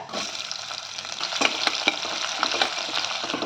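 Onion pieces fry with chana dal lentils in hot oil, a continuous bright sizzle with occasional crackles and pops, close and fairly soft, with no talking.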